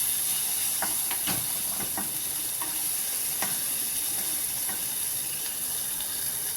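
Prawns and masala sauté in a pan for a prawn manchurian filling, a steady close sizzle and hiss running throughout, with a few soft stirring scrapes and clicks scattered over the top.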